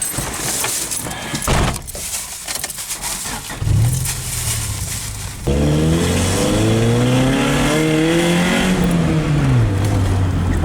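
A Honda Civic Si revs hard, its engine note climbing and falling in steady rising sweeps after some clattering handling noise, loud and close throughout, with no voices.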